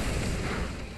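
Breakneck Blitz Z-move attack in the Pokémon Moon video game, a sustained dense roaring blast filling the whole second at steady loudness, like a continuous explosion with no talking.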